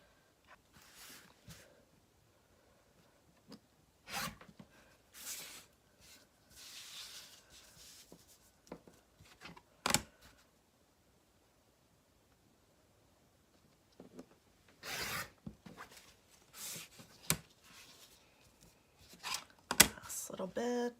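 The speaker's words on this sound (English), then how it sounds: "So let me just go ahead and trim this." Scissors trimming quilting material in a sewing demonstration, giving scattered short snips and rustles with long quiet gaps between them.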